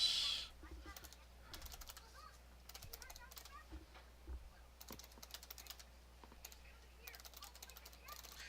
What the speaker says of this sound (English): I know I shouldn't be typing and talking.